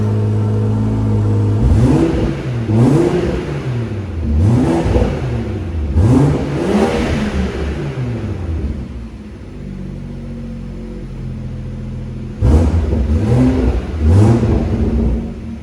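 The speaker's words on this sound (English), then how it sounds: "So a lovely burble there from that exhaust." A BMW M140i revs repeatedly, each blip of the throttle rising and falling in a deep rumbling sweep with exhaust burble, close and loud, in two clusters separated by a brief idle lull.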